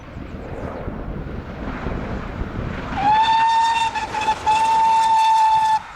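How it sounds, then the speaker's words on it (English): GWR King Class steam locomotive 6024 King Edward I passes at the head of the Torbay Express rail tour from Bristol Temple Meads to Kingswear, a rumbling approach giving way to a loud, sustained steam whistle blast that holds for several seconds. "Great Western Railways King Class 460 number 6024 King Edward I is seen passing by at the head of the 9:15 AM Bristol Temple Meads to Kingswear"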